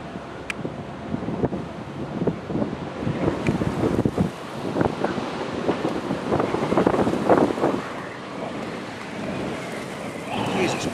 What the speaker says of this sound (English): The whole area is just rotating right over my head, and a gustnado just spun up off to my north.